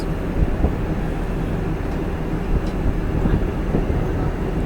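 The Coimbatore–LTT Kurla Express rolls past close by with a loud, steady rumble and a rattle of wheels on track that never lets up.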